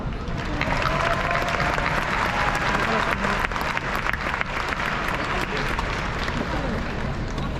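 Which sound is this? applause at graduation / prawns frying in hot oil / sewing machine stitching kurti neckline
applause at graduation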